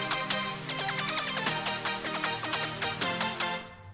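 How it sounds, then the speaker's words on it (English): A main sawtooth synth patch in Surge XT plays solo, a bright buzzing chord line with quick rhythmic note changes over a sustained low end, loud and without voices. "And here's just the main synth by itself."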